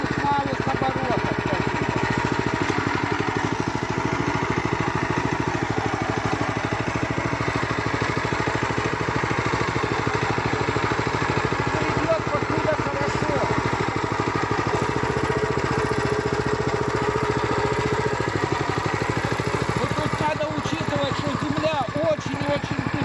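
A walk-behind tractor engine runs in first gear at low revs, a steady, continuous mid-pitched chugging drone with a constant loudness, while someone talks over it.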